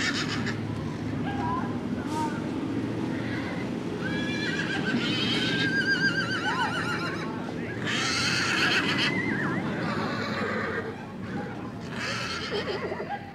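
Horses whinny and neigh again and again amid the crowd noise of a Frisian horse market and fair, with people talking throughout and louder neighs standing out now and then.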